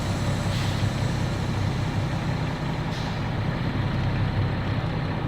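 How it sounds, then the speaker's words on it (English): A truck's air brakes hiss and the heavy engine rumbles steadily during a pre-trip brake tug test in Connecticut, with a couple of brief airy releases over a constant low idle and no talk. "Now I'm gonna check my truck brakes. Pull my truck maxi. Push down my trailer maxi."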